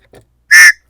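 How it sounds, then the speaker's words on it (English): A small whistle clipped to the lanyard of a folded Kydex knife sheath gives one short, shrill blast, loud and close, after a faint soft rustle. "a whistle."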